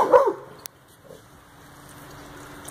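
A single sharp dog bark near the start, followed by faint background noise and quiet shuffling.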